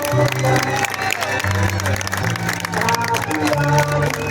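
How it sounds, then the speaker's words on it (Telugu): Audience clapping at a police battalion passing-out parade during a vehicle-stand display, a short burst of crowd applause mixed with steady background music tones and murmur. "గట్టిగా చప్పట్లతో ఎంకరేజ్ చేయండి."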